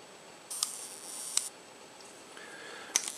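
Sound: Minox B miniature camera shutter at half a second

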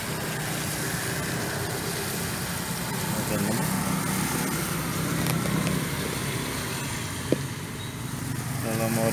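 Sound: Nissan Serena 2.0L engine idling with HHO fuel saver

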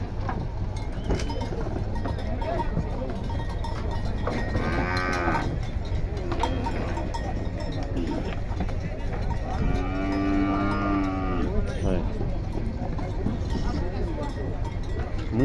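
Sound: cattle mooing while unloaded at livestock fair

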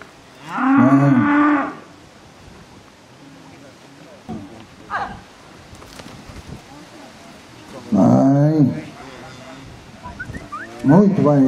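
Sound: cow mooing at a bullfighting ranch

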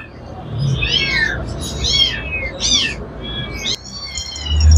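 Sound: cats meowing at an animal market

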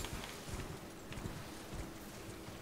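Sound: horse hooves while riding on horseback, Elden Ring video game

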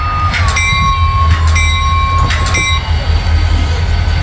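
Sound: train running in a video game

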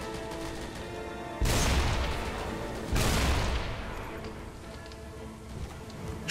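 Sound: gunfire in the video game Deadfall Adventures

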